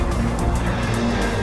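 Video game car from L.A. Noire driving with a steady engine roar and tires squealing and skidding throughout, loud and close with no talk.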